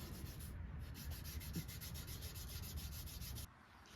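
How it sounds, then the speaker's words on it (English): Steady sanding on a faceted wooden knife handle backed by something hard, a continuous close rubbing rasp with quick repeated strokes that stops just before the end. "Now on the handle with facets, I'll do all the sanding with something hard backing it"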